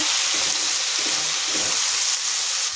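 Chopped onion and tomato with a little salt fry in a pan for a restaurant-style methi garlic curry, giving a continuous, close, even sizzling hiss with faint stirring movements.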